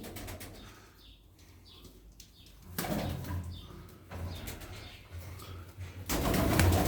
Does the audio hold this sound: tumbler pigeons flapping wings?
yes